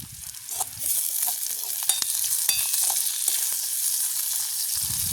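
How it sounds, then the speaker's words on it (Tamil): Curry leaves fry in a pan of oil for a banana stem curry in a village kitchen, giving a steady, close crackling sizzle with small pops and occasional stirring. "இப்போ நாங்கள் இதோட கறிவேப்பிலை சேர்த்துக்கொள்ளுவோம்"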